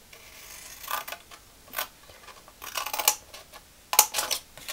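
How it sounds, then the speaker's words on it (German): Scissors cutting through paper card along a marked line, several short, close, crisp snipping and rasping strokes separated by brief pauses. "Also hier ist meine Markierung und ich schneide mir hier von außen"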